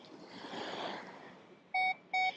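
A metal detector on a lakeside beach sounds two short, clear electronic beeps near the end, after a stretch of faint wind and ambient noise.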